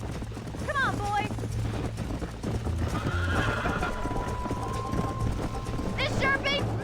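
Horses in the Red Dead Redemption video game neigh and whinny over rhythmic hoof clip-clop, with a sustained whistle-like tone midway, game music underneath, and a final sharp whinny near the end.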